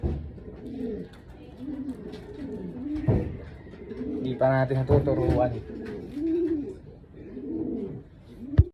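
Low, soft racing pigeon cooing repeats in a steady rhythm close by, while a person talks briefly over it and some brighter bird calls break in.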